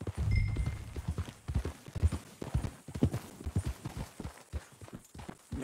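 Horse hooves clip-clop in a quick, steady rhythm in Red Dead Redemption 2, moderately close and continuous, with a faint whinny near the start.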